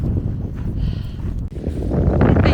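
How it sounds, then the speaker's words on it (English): Strong gusting wind buffets the microphone at a beach. Low roaring rumble swells and dips, then builds louder toward the end. "It's getting very, very windy."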